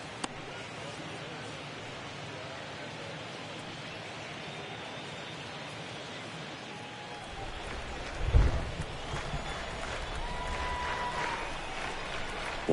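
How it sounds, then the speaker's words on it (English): Steady rain hisses over a baseball stadium during a Cardinals at Pirates game, a broad even wash with a brief low thump near the end, faint distant crowd noise under it. "It feels like we might be headed towards a rain delay if the weather doesn't ease up, Chris."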